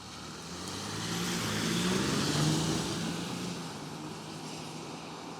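A 2023 Volkswagen Amarok V6 pickup truck on the move, its engine a broad steady drone that swells in the middle and settles back down, heard from inside with no talking.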